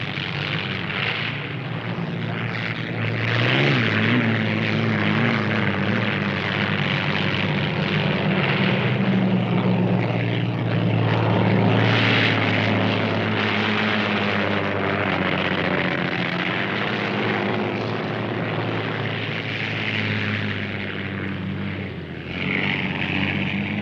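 The Notre Dame hydroplane race boat's engine on a 1969 qualifying lap, a loud, continuous roar that holds steady for the whole stretch, swelling slightly near the start and again midway, with no voices over it.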